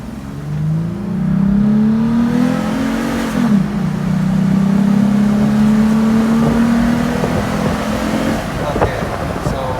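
A car engine fitted with a TRD cold air intake revs up loudly and holds a rising, steady roar for several seconds before dropping off, heard from inside the cabin with the windows down and wind noise around it.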